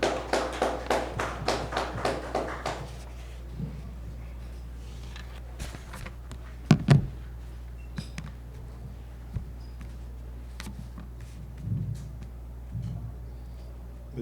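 A small audience at a formal signing ceremony claps in a brief burst of close, scattered hand claps that fades within a few seconds, leaving a quiet room with occasional taps and thumps.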